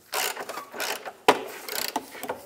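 A ratchet clicks and whirs while bolts are started on the spare tire bracket of a 2004-2010 BMW X3, short close mechanical bursts with a sharp clack partway through.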